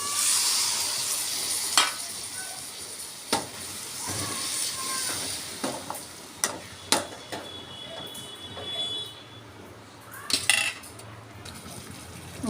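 Masala water poured into a hot pan for mushroom curry, with a hissing sizzle settling into a simmer, broken by repeated clinks and scrapes of a metal spoon against the pan, close by.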